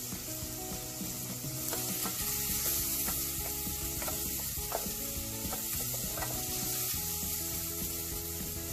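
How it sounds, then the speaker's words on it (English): Onions frying in a pot over an open cooking fire, a steady close sizzle with occasional stirring scrapes and clicks throughout, no voices. "I'm gonna continue with my onions until they turn golden brown"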